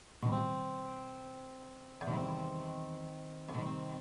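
Three strummed guitar chords, the bottom string muted by a lightly resting ring finger, ring out one after another, each sustaining and slowly fading before the next strum, played softly and close.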